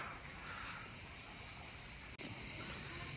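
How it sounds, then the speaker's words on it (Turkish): A steady, dense hiss of crickets chirping fills the whole stretch, constant and fairly loud with no voices, briefly cut off for an instant. "cırcır böceklerinin muhteşem sesleri eşliğinde"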